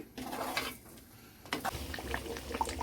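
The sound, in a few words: tomato pickle boiling in a pan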